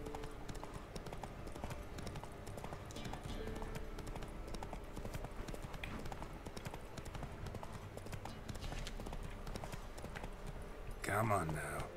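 Roach the horse gallops in Witcher 3, a fast rhythmic clip-clop of hooves running steadily under game ambience, with a voice speaking over it.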